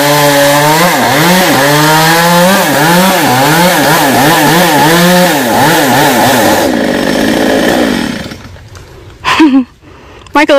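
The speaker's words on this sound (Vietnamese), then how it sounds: "Máy cưa vừa cưa xong là tắt máy à" A chainsaw cuts through a star apple tree, its loud engine revving and bogging in rising and falling surges for about eight seconds before cutting out, followed by a few brief knocks and clatters.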